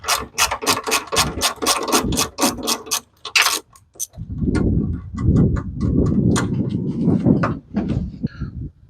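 A hand ratchet clicks in fast, steady strokes under the dashboard of a Crown Victoria, loosening 10mm ground wire bolts by the passenger footwell, followed by duller clunks and scraping from the bolts and metal parts, close and loud.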